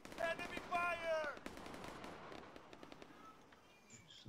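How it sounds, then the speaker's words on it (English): Machine gun bursts sound during an ARMA 3 firefight, a scatter of sharp cracks, some near and some farther off, with a brief voice-like tone at the start before the firing thins out. "Machine gunner. 100 meters back. Enemy fire."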